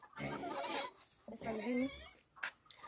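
Chickens cluck and squawk close by in short bursts, with a person speaking at the same time.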